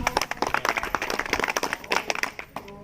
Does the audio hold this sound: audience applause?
yes